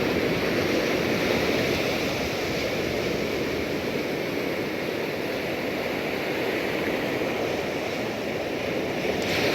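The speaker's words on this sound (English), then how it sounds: "So the waves crash pretty big right in front of me and die out." Pacific surf breaks at high tide onto a steep beach just at the water's edge. It makes a continuous, loud wash of churning water and spray that holds steady throughout, with no one speaking.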